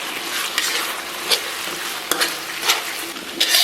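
Bean paste, sweet sauce and soybean paste stir-fried in a wok over low heat, a steady crackling sizzle punctuated by several quick scraping strokes of the spatula.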